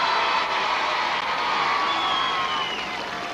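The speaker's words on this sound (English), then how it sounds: "Give them a round of applause." A crowd at a 1982 outdoor It's a Knockout team games contest between Cockermouth, Keswick and Maryport claps and cheers, producing a continuous, even roar of applause and raised voices from a distance.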